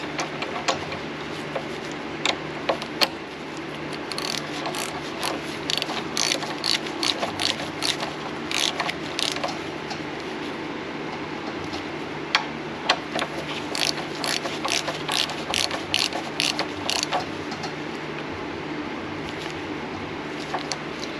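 Hand ratchet tightening motorcycle brake bracket bolts, rapid bursts of close clicking pawl ticks in repeated strokes over about twenty seconds, sharp and steady.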